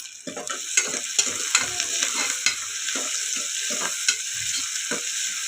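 Onions and curry leaves fry in a pan for a chicken curry, with steady sizzling broken by repeated scraping stirs of a spoon, close and fairly loud throughout.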